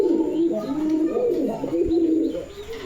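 Caged pigeons coo in soft, repeated throaty calls close by, a continuous layered murmur from several birds with one brief knock partway through.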